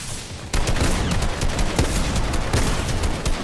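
Dense, rapid gunfire rattles close and loud in a shooter game, one sustained burst with sharp repeated shots and a few harder cracks layered over it, continuous across the whole stretch with no talk.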